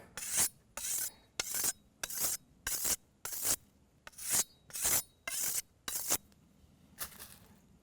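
Knife blade drawn over a fine sharpening stone in eleven regular rasping strokes, each about half a second with short pauses between, close and fairly quiet.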